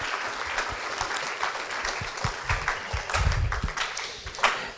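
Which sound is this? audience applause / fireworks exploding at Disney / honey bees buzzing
audience applause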